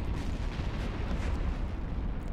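A ship blowing up in the space game EVE Online during a mass test, a dense rumbling blast with rolling low booms that fills the whole stretch at steady loudness, with no talking.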